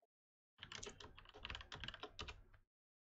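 Rapid clicking of keys on a computer keyboard, a steady burst of typing lasting about two seconds, close and clear.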